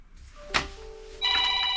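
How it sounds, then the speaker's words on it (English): A telephone rings in a garage where a Kawasaki GPz600R motorcycle is under maintenance, a bright electronic ring tone starting after a short knock and continuing steadily and fairly loud with no talking. "And there you go, that phone call."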